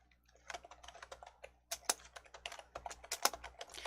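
Computer keyboard typing a scenario name in a spreadsheet program, soft close-up keystrokes in quick irregular bursts with a brief pause near the middle, no voices.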